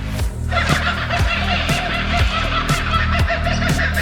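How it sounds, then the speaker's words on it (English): A loud, raucous, rhythmic kookaburra call, repeated cackling bursts rising and falling like laughter, close and continuous. "The laughing sound of the kookaburra bird, though, was slightly terrifying."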